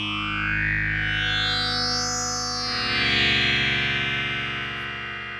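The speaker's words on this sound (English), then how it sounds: "Sometimes I like to use distortion instead of the saturation type." Distorted Access Virus TI synthesizer patch sustaining a thick, buzzing tone whose filter sweeps upward then back down, with the gritty harmonics shifting and a pulsing low layer entering midway.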